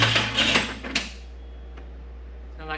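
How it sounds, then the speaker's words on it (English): The weak starter motor of a Jeep Cherokee XJ cranks the engine in a brief, laboring burst of uneven mechanical churning that stops after about a second, leaving near silence. "Sound like the starter's weak."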